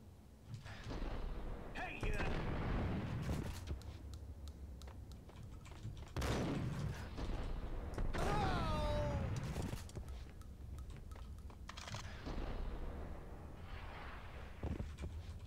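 Gunfire from an action video game breaks out in a few short, loud bursts amid shifting game effects and background noise, with no talk over it.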